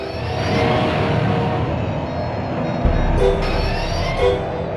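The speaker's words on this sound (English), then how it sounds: "Follow the hover train." A hover train in the Star Wars: Rogue Squadron N64 game rumbles loudly and steadily, with a heavy low roar and a brief high tonal blast partway through.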